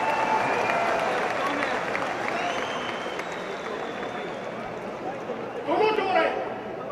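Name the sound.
crowd clapping at a political rally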